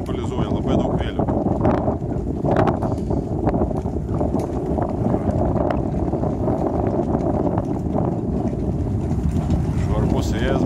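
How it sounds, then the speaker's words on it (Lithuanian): Strong wind blows at an open viewpoint in Washington D.C., a constant heavy rumble buffeting the microphone throughout, with occasional faint voices and sounds in the background. "Švarbus vėjas"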